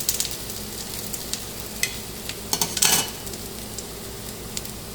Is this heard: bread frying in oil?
yes